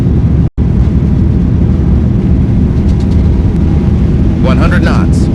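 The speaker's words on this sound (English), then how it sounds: "Takeoff, thrust set." A TAP Portugal Airbus A330-900neo spools up to takeoff thrust in a flight simulator, a loud, dense engine roar that fills everything, with a short dropout early on and a brief voice near the end.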